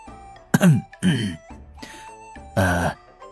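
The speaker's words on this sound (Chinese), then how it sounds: "李长寿清清嗓子" A man clears his throat in a narrated storytelling setting, giving several short, close, rasping bursts in a row, with brief voiced sounds between them.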